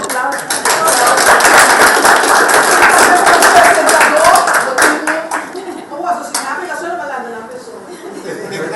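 Audience applause rises into a dense, loud burst of clapping, then thins into scattered claps under a speaking voice.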